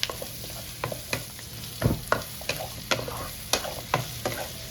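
Onion and capsicum being stir-fried in a pan for gobi manchurian, a soft sizzle under repeated scraping stirs and spatula knocks at an irregular rhythm, close and moderately loud.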